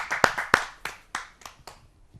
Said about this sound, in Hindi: आइए जोरदार तालियों से।